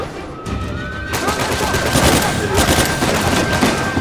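Sustained automatic gunfire in Uncharted 4 during a firefight with an RPG enemy nearby, loud and dense rapid bursts with a thin steady tone running through, a voice faintly mixed in.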